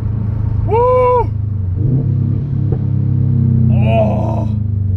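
A 2021 Subaru WRX STI engine rumbles and revs through a downshift, heard from inside the car, while excited voices cry out over the engine noise.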